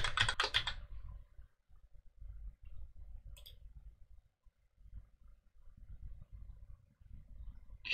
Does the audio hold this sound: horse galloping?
no